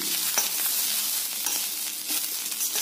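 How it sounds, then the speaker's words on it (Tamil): Ivy gourd tossed with salt and spice in a hot pan, a continuous close sizzle and crackle with soft scraping stir strokes throughout, no talking. "1 நிமிஷம் மட்டும் இப்படி நல்லா பிரட்டி விட்டா போதுங்க."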